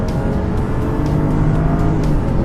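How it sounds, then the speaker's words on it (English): A 2015 Kia K900's engine roars steadily under hard full-throttle acceleration from 0 to 60 mph, a loud, continuous drone that holds strong throughout with no voices. "0 to 60. I'm just going to floor it."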